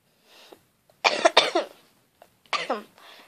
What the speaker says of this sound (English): Having another coughing fit.